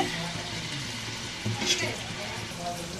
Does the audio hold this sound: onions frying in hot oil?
yes